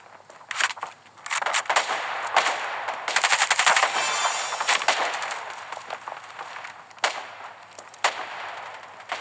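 Rapid automatic gunfire in a video game, with bursts of machine-gun fire and scattered single shots. They crowd together into a dense, loud barrage midway through, then thin out into sporadic reports.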